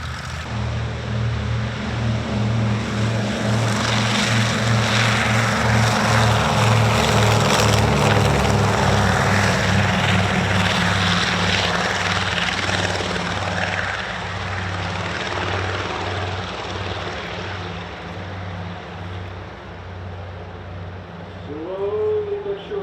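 A PBY Catalina seaplane, the warbird nicknamed Jumbo, roars with its propeller engines at a Virginia Beach military aviation museum, a loud, steady droning thrum that holds strong throughout and eases slightly toward the end.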